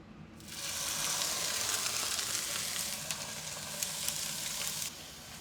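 A steak sears in a pan on a truck camper stove in freezing high-altitude cold. A steady, hissing sizzle starts abruptly and holds close and even, with a few faint pops and no talking.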